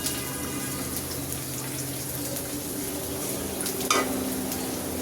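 Onions fry in hot oil with chopped ginger and green chillies added for beef nehari, giving a steady close sizzle with light stirring and no talking.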